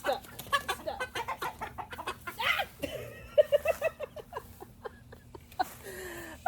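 Chicken clucking loudly in a rapid, agitated series of squawks while being caught in a backyard garden, close to the microphone.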